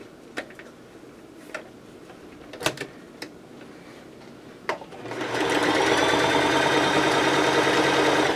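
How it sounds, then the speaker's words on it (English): A sewing machine stitching two pieces of fabric together: a few sharp clicks and taps at first, then a steady, loud mechanical whir running continuously to the end. "So here I have my fabrics placed together and I'm going to go ahead and sew them."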